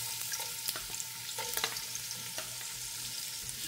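Ginger sizzles in about three tablespoons of hot cooking oil, a continuous close frying crackle with occasional stirring scrapes and pops.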